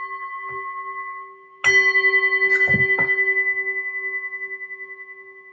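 A small handbell is rung twice in a room, each ring giving a bright clang with a long fading ring-out, and one soft tap before it.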